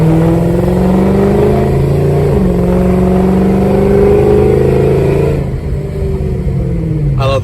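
A cammed Ford Mustang with long tube headers and pipes revs hard, its loud, raspy engine note climbing and holding high before dropping back to a lumpy, rumbling idle close by.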